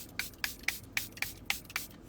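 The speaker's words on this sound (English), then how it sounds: "I'm gonna set my makeup with setting spray." Makeup setting spray mists onto a face in eight quick, evenly spaced hissing pumps, close and crisp, with nothing else heard between bursts.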